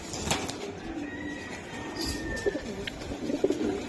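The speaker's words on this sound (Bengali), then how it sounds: "আজকে কবুতর দেখাবো অনেক।" Domestic pigeons at a breeder's loft coo repeatedly in soft, low, bubbling calls, with a few higher bird chirps and light handling noise in the background; no one speaks.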